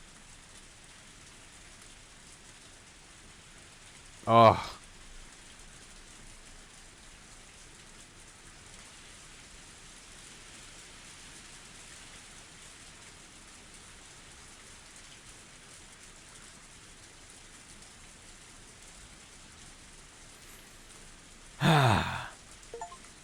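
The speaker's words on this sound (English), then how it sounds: "Only the sound of the pouring rain filled up the silence." Steady pouring rain from the visual novel Higurashi When They Cry fills the whole stretch as an even wash, broken by two brief louder bursts near the start and end. A single short voiced exclamation is heard.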